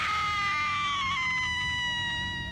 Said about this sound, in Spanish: Los gritos son de esperarse en esta casa embrujada llamada El Nido.